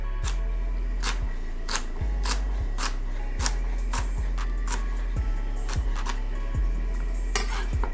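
A knife chopping seeded jalapeno into similar-sized pieces on a cutting board, with steady repeated cuts spaced under a second apart, close and moderately loud over a constant low hum, no talking.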